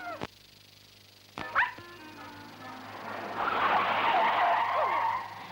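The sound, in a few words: lost dog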